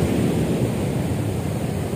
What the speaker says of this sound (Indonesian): Anda dapat melihat bahwa jeburan ombak di pagi hari ini